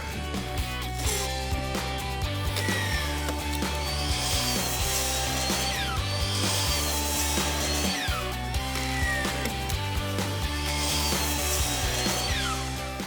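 Power saw cutting a miter in a deck board at a lakefront deck build, a loud continuous whine with the blade pitch rising and falling through several passes.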